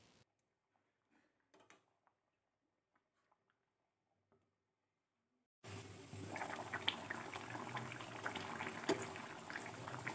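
Fish curry with green peas simmers in a pot, a steady bubbling that starts abruptly partway through after near silence with a few faint clicks.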